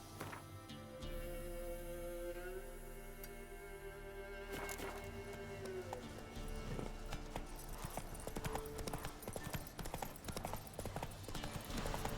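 A horse gallops in The Witcher 3 with rapid, dense clip-clopping hooves, loud and close, over a bed of game music and ambience with no talking.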